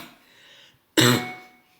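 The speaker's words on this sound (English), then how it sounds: "Darn cough." A single close cough bursts out during a lecture on linear regression, harsh and brief, after a moment of faint background hiss.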